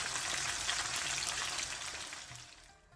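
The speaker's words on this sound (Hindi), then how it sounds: "तो ये देखिए, इसमें बैंगन फ्राई हो गए हैं।" Aubergine pieces fry in hot oil in a pan, giving a dense, steady sizzle close by that eases off and fades toward the end, with no voices.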